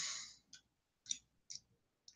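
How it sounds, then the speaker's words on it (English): Bursts of clicking keystrokes from an electronic typewriter, starting with a brief dense flurry and then falling into a few sparse, separate taps with quiet gaps between them. "you hear the sound of this electronic typewriter that's got all this typewriting stuff saved"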